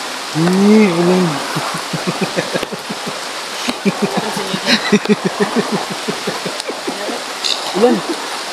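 A constant wash of heavy rain runs throughout, under close voices chattering and shouting in short, rhythmic bursts for most of the stretch.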